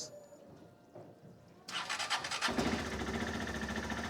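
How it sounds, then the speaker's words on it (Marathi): A motorcycle engine cranks and catches in Manang, Nepal, then settles into a steady, loud, close idle after a quiet start. "सो आता आपण बाईक सगळ्यात पहिले स्टार्ट करून बघू"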